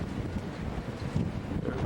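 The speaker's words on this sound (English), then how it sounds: "We're just now departing Cape Town on a very, very windy afternoon" Strong wind buffets the microphone aboard a ship departing Cape Town on a windy afternoon, a steady loud roar with low rumbling gusts and no talk.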